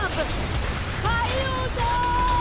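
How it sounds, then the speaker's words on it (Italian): Heavy rain pours steadily throughout a cartoon storm scene, a dense hiss with whistling wind-like tones on top, loud and continuous with no talk. "La tempesta è fuori controllo!"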